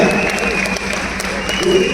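A class of students clapping together in a steady, dense patter that fills the whole stretch, with voices talking over it.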